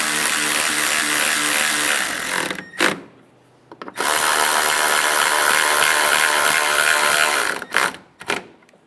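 A power tool whirs steadily while tightening headlight assembly bolts on a Ford Expedition of the 2007–2017 generation, running in two long, loud bursts with a brief pause and short blips between them.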